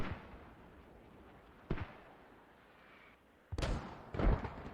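Mortar fire in a tactical military video game: three sharp, booming impacts spaced a couple of seconds apart over a low rumbling background, the later ones heavier and closer together.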